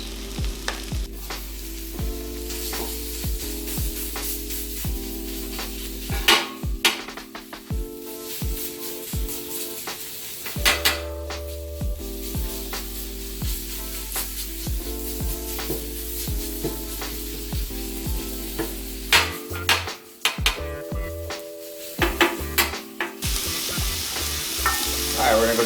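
Sausage sizzles and crackles steadily on a 36 inch Blackstone griddle, with scraping and stirring strokes of a spatula cutting in throughout and a low background hum.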